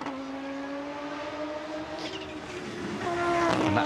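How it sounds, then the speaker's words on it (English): Five-cylinder Audi Quattro Group B rally car at Goodwood Festival of Speed, a distinctive warbling engine note that climbs steadily in pitch as it accelerates, growing louder and nearer toward the end with no talk. "That distinctive warble of the 5-cylinder Quattro."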